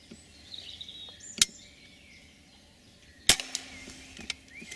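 Two sharp, quiet air rifle shots cracking out during pest control at a feeder, spaced about two seconds apart over faint outdoor birdsong and background hush.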